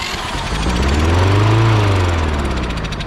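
A small lawn mower engine fires up and runs with a loud, close, rough droning chug that rises and settles, steady throughout with no talking.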